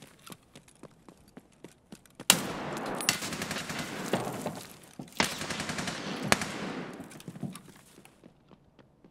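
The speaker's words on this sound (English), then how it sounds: "Is he shooting me through the damn wall?" Gunfire in the video game Escape from Tarkov: loud, dense bursts of automatic fire and sharp shots over several seconds, interrupted by brief pauses, with faint footsteps before and after.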